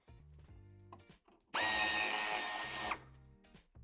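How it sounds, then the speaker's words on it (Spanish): A power tool loosening the tail light screws on a 2019–2022 BMW X7 G07, one loud whirring run of about a second and a half, close up, between quieter background sounds. "Vamos a aflojar estos dos tornillos del piloto"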